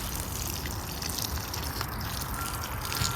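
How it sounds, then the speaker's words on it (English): Water gushes and splashes at the base of a petunia plant, a steady close-up pour with trickling and dripping that runs the whole time, and no one speaking. "Go ahead and water. So I just water at the base. Let that soak in."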